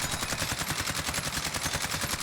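A CR-56 AMAX assault rifle fires full-auto in Call of Duty, a rapid, evenly spaced stream of sharp shots sustained throughout at steady loudness.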